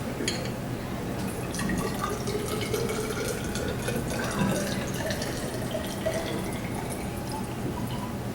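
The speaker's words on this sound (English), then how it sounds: "I'm going to measure out 100 milliliters of 1 molar hydrochloric acid." Liquid streams steadily into lab glassware while 100 milliliters of 1 molar hydrochloric acid is measured out, a continuous close trickling pour with faint dripping, no voices.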